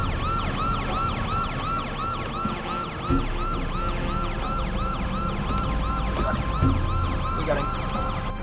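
Police car siren wailing in a fast repeating rise-and-fall cycle during a chase, loud and steady over road and engine noise, with a few thumps.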